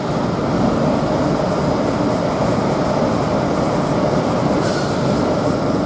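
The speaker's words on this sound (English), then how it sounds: "Now we've got a LNER zoomer from London King's Cross towards Edinburgh, passed by here." An LNER Azuma express from London King's Cross to Edinburgh passes through Grantham station with a loud, continuous close rumble of wheels and rushing air that holds steady throughout, with a brief high squeal near the end.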